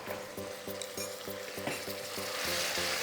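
Mutton rogan josh with yogurt and ground tomato sizzles in a pan over high flame, stirred in repeated strokes. The frying hiss stays steady and close, and a rhythmic tonal pattern runs underneath it.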